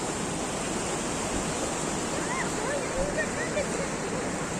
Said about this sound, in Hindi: यहाँ पर एक नदी बह रही है